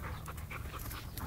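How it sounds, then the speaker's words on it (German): A dog on a walk panting in quick, rhythmic breaths, close and fairly soft, with no talking over it. "Ein Hund."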